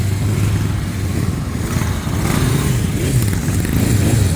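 Many motorcycle engines idle and rumble together at a bike week gathering in Pesaro, Italy, with Benelli bikes among them, a loud, steady, close mechanical drone that carries throughout.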